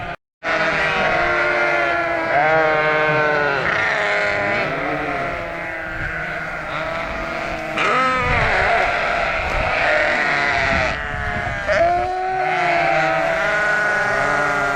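Sheep bleat repeatedly in a summer pasture, several loud, close calls overlapping and following one another with short gaps.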